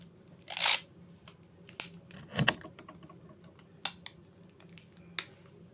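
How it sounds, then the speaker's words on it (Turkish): Close, sharp tearing of adhesive tape comes in a few separate rips with quiet pauses between them, over faint room noise. "şu kısmı bantlayayım"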